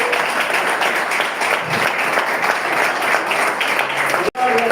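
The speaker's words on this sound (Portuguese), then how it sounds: "E amém, aplauda ao Senhor." A church congregation applauding during a Santa Cena and missions service, steady dense clapping that fills the room and carries on loudly for several seconds, with voices mixed in before a brief cut near the end.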